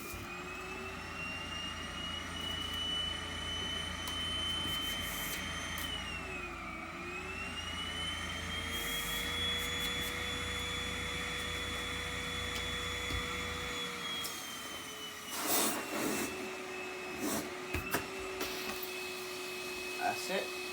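A Numatic Henry cordless vacuum cleaner runs on its lower power setting with a steady whining hum that dips briefly once. Near the end, bumps and clatter from the hose are heard while a person talks.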